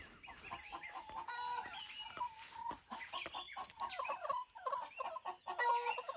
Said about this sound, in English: You hear the egg laying song.